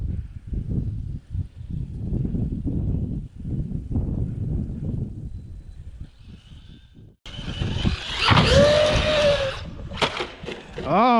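A Traxxas Maxx RC truck drives over rough ground, then launches over a tree with a loud whining motor rise and a sharp tumbling impact, following a stretch of quieter rustling and handling noises.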